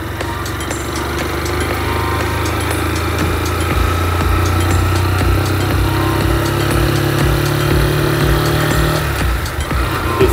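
Motorcycle ridden on a licensing training course in Belém, Pará, with a close engine that shifts pitch as gears change up and down. The mechanical rumble runs steadily throughout.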